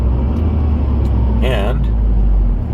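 A car cruises along a freeway at night, its steady road and engine rumble loud and continuous from start to finish, with someone talking over it.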